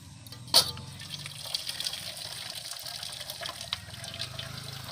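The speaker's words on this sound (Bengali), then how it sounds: "ওল আর আলু সেদ্ধ হয়ে গেছে আমি নামিয়ে নিচ্ছি ছিদ্র ঝুড়িতে" Boiled elephant foot yam and potatoes are tipped into a colander: a brief splash, then quiet, continuous trickling and dripping of water.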